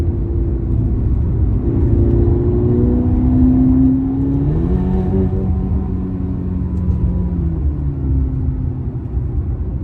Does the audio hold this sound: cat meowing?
no